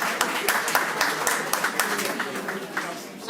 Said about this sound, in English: another big round of applause for our madrinas and our padrinos